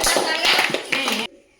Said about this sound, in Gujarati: હા, બસ તાળીઓ પાડો ભાઈ કેતન માટે મિત્રો.